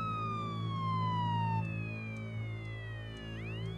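An ambulance siren wails through a city street, its rising and falling tone sliding steadily with a slight pitch bend as it passes, fairly faint and set against a low hum of traffic.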